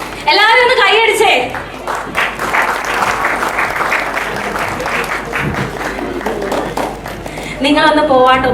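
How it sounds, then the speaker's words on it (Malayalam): Audience at a church youth event breaking into loud sustained applause, a dense wash of clapping from many hands throughout, with a voice speaking over it at the start and end. "എല്ലാവരും ഒന്ന് കൈയടിച്ചേ."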